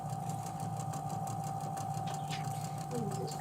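A sewing machine runs steadily, stitching fabric quilt squares together, its even mechanical hum continuing without a break under faint background voices.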